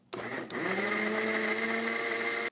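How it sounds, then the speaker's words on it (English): A Cuisinart Hurricane juicer and blender starts up and runs, its motor whining loud and steady with a rising pitch as it reaches speed. "It's the Cuisinart Hurricane Juicer and Blender."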